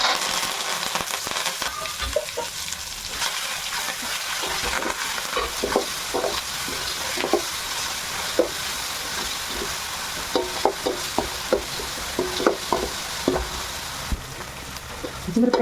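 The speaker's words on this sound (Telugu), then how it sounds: "పోపులు వేసేద్దాం." Tempering spices for pulihora (mustard seeds, urad dal, chana dal, peanuts, curry leaves and asafoetida) sizzle and crackle steadily in hot oil, with scattered sharp pops and stirring scrapes, close up and with no talking.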